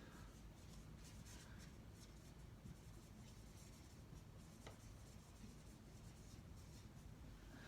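A pen scratches across paper in a faint, continuous rubbing stroke, close and quiet throughout with no talk over it.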